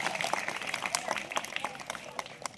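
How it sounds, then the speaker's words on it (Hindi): Applause for the second-place Gandhi House at a school Children's Day celebration at St Francis School, a dense patter of many hands clapping steadily, with crowd noise mixed in. "और ऐसे और सेकंड प्लेस पे गांधी हाउस, उनके लिए भी जोरदार तालियां बजाइए."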